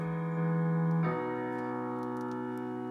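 Piano chords sound a sustained progression, with one held chord changing to another about a second in and ringing on softly; no voices.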